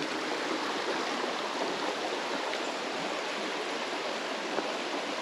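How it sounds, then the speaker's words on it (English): A small creek in a wooded area, Upper Stevens Creek, flowing with a steady, even rush and babble of water, close and continuous with no talk over it. "Very woodsy creek."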